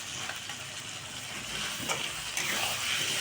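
Fish frying in a pan with chili powder and masala: a steady close sizzle with faint stirring scrapes, no talking.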